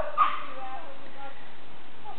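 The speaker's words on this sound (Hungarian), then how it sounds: "őrülten ugat" A dog gives one short, sharp bark at the start, which trails into a faint whine during an outdoor chase, followed by near silence.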